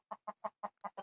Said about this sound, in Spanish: Aquí tienen su pequeño gallinero.